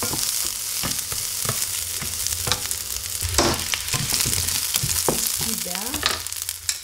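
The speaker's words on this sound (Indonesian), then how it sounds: "masukkan bawang bombay sama bawang putih" Chopped onion and garlic frying in a hot pan, a steady loud sizzle under repeated clicks and scrapes of a spatula stirring, close up with no talking.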